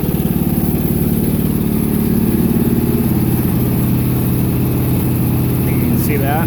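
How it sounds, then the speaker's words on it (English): An Ariens Deluxe 28 snowblower engine idles low and steady close by, a loud, even chugging putter throughout, with a brief high squeak near the end. "As you can see, at low idle, turtle idle, there is a little bit of flicker."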